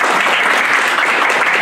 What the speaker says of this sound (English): And you deserve many rounds of applause.